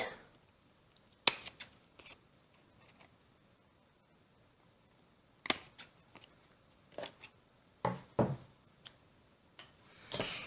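Scissors cut paper for a Christmas tree pocket page, producing sharp, close snips in irregular clusters with quiet gaps between them and no talking.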